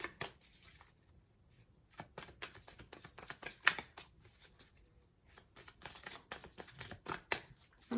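Tarot cards shuffled by hand, giving a close, quiet run of irregular papery riffles and soft slaps that carries on throughout with no talking.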